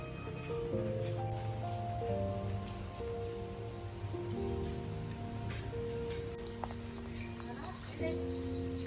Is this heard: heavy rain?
yes